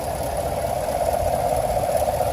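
A 2017 Chevy Silverado's 6.2-liter EcoTec3 V8 engine idling steadily, a smooth low rumble with a faint mid hum, even and unchanging throughout.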